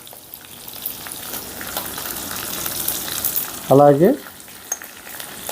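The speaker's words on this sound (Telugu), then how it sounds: "ఇప్పుడు ఇందులో కొద్దిగా ఇంగువ కూడా వేసుకుందాం." Hot oil sizzles and crackles steadily as asafoetida goes into a tempering for mango rice. A short spoken word briefly cuts in over the frying.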